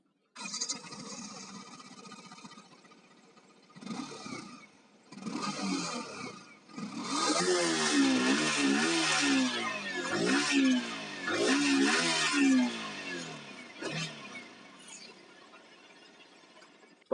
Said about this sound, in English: let's get to hear the exhaust note as well